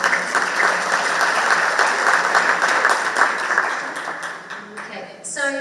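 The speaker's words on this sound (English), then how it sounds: "we can clap for that" Audience at a tech talks event applauding steadily for several seconds, a dense even wash of clapping that fades slightly at the end, with no one speaking over it.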